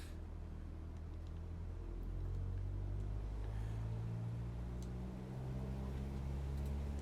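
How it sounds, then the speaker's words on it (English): A Rotax engine of an AeroMobil flying car idles in a flight simulator game, a steady low droning rumble with a constant hum and no talking. "We'll set engine is on, which is weird hearing a Rotax for a road vehicle"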